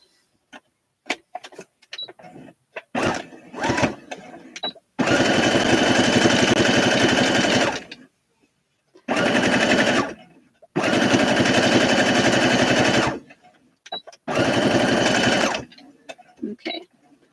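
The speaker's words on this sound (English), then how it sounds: "I'm going to sew up this part, but it's going to have a little hole in the center so that I can flip it out." A sewing machine stitches a denim jacket seam in three long loud bursts of rapid mechanical chatter, separated by pauses filled with light handling clicks and fabric rustle.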